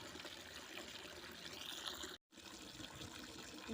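Tap water runs steadily into a container for rinsing a hand-washed blanket, a continuous close rushing fill with a brief cut in the middle.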